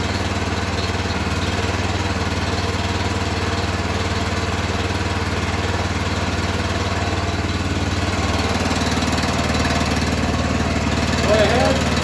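A Honda EG5000CL generator converted to run on propane drones steadily and close by, a constant engine hum that holds level throughout with faint background sounds over it.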